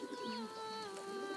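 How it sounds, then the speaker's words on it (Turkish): A pigeon coos softly in a low, rolling call, close by, over a faint steady background hum. "Bak, kuş."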